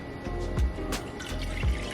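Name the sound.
pouring water into a bowl of almond milk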